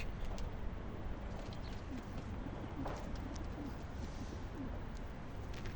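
Pigeons coo softly in repeated low murmurs over a constant background hum, with occasional faint chirps.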